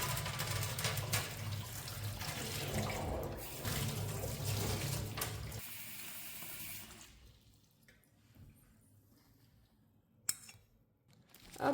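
Running water from a tap splashes steadily over beans being rinsed in a bowl, loud and continuous for several seconds before fading to quieter trickles and a faint clink near the end.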